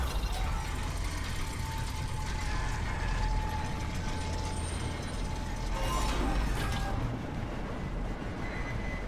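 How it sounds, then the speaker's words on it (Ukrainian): Fan machinery in the Dead Space Remake video game gives a steady, dense mechanical whir and hum with a faint rattling texture. It holds at an even level throughout, with no voices. "Бляха, ну вентилятор."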